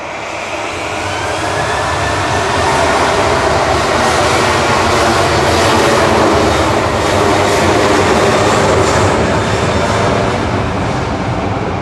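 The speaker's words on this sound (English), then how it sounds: "Ryanair departing next to Krakow, flight" A Ryanair jet departing Manchester Airport for Krakow produces a loud, continuous engine roar that swells in the first seconds and holds at full strength, with a broad rushing hiss on top and no talk.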